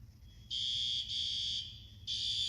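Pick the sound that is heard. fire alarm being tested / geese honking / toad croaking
fire alarm being tested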